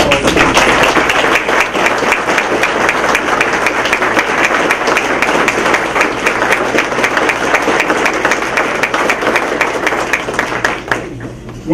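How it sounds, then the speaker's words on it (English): Sustained loud applause from a ceremony audience honouring new public safety promotees, steady dense clapping for about eleven seconds before tapering off at the end. "Give them a round of applause."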